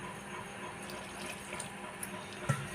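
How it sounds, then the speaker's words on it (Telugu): A little water is poured into wheat flour while making dough for sweet bobbatlu at home, giving a faint, soft trickle with a small splash near the end. "కసిని నీళ్ళు పోసుకోవాలి"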